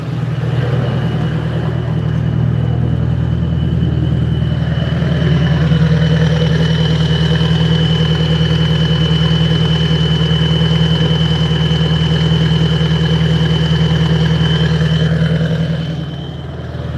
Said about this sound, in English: So it's got that high idle so I can warm it up.